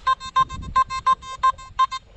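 A metal detector over a 10 grosz coin gives a rapid series of short, evenly pitched electronic beeps, about a dozen pulses in a choppy rhythm, close and clear with faint background rustle.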